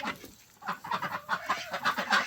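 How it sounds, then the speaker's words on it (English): Chickens cluck and mutter in their coop, a close, soft series of short irregular calls with no talk over them. "Let's check on the birds."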